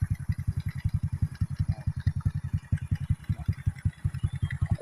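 A motorcycle idles close by with a steady, rapid, lumpy putter that keeps an even rhythm, heard alone without talk.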